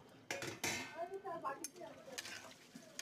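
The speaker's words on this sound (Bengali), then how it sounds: "দেখুন আমি মাছগুলো ঢেলে দিলাম।" Fried catfish pieces tip into a pan of curry with a few sharp clatters and scrapes of metal against the pan, then softer stirring sounds and a light bubbling underneath.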